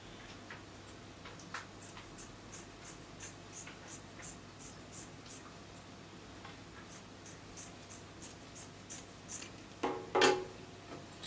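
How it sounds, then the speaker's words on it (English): Scissors snipping through fabric while cutting the back panel of a dress, a quiet, steady series of crisp clicks with no talk, ending in a slightly louder rustle. "Now we'll go ahead and cut the back panel into 2"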